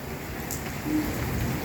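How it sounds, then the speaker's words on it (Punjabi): Steady rain pours down outside a house with a yard, an even and moderately loud wash of sound with no voices. "ਦੇਖੋ ਮੀਂਹ ਕਿੰਨਾ ਪੈ ਰਿਹਾ"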